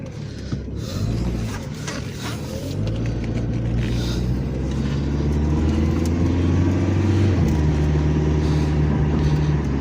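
A 1998 Dodge Neon engine rumbles as the car drives along, with a harsh rattle on top. The engine tone rises and settles as it gets going, loud and close from inside the car.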